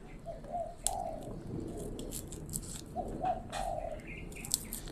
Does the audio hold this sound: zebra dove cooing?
yes